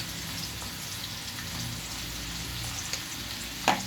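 Cauliflower and tofu frying in a hot pan give a steady, moderately quiet sizzle with a brief louder crackle near the end; no one speaks.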